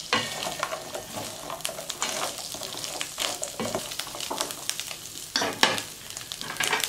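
Mushrooms sizzle in a pan for a hot buttered mushroom dish while a spoon stirs them, making crackling frying noise and repeated scraping and clinking strokes close by.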